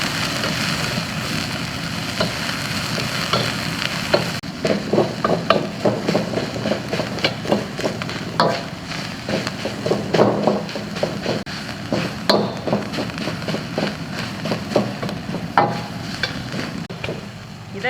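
Yuqiu chili peppers stir-fry in a wok with a little oil, a steady moderate sizzle with scraping stir strokes over a low stove hum.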